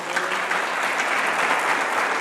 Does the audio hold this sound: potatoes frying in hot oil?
no